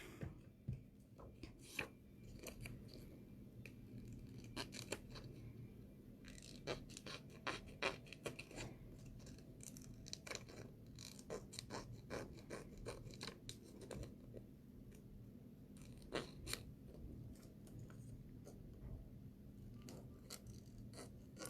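Scissors snip through paper for a travel-themed scrapbook layout, a quiet, steady run of short crisp cuts with faint rustling and no talk.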